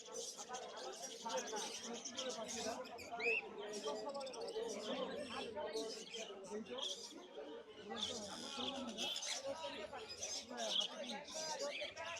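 At Mirpur bird market, caged birds chirp and twitter busily, a dense, continuous chorus of small calls heard close, with voices chattering in the crowd alongside.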